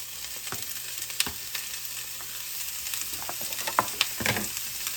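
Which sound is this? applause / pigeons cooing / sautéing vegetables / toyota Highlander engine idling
sautéing vegetables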